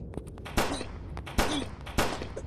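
Three sharp, distant-sounding gunshots ring out from Resident Evil 4 mobile gameplay, spaced roughly evenly apart over a low game backdrop.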